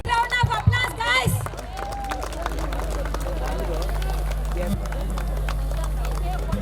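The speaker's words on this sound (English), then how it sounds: "Round of applause, guys." At a college electronics department farewell ceremony, an audience applauds as students step forward to receive mementos. Steady, dense clapping and crowd cheering fill the hall, with excited voices and shouts mixed in near the start.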